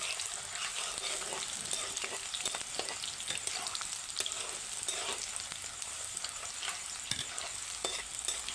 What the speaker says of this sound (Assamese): পিঁয়াজটো অকণমান ৰঙা হোৱালৈকে মই অকণমান ভাজি ল'ম।